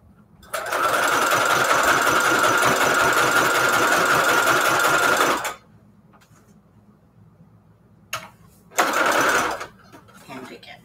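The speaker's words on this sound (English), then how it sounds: "I'm not really surprised my sewing machine always does this." A sewing machine running a zigzag stitch whirs loudly and steadily for about five seconds, stops, then gives a brief burst and another short run.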